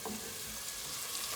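Butter and onions sauté in a hot pan with a steady, dense sizzle and crackle, close and even throughout, with no voices.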